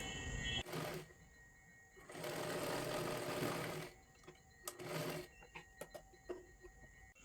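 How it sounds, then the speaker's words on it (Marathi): A sewing machine stitches a seam on a katori blouse, running in short bursts with a longer steady run in the middle, followed by scattered light clicks and taps of handling. "ह्याच्यावरती अशा पद्धतीने आपल्याला इथे एक शिलाई मारून घ्यायची आहे"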